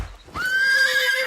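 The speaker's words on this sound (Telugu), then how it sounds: "చూడు గుర్రం ఇది జట్టు స్పీడ్ లో ఉరికింది" A horse gives one loud, close whinny that starts abruptly and holds a steady high pitch for about a second before fading, with no talking over it.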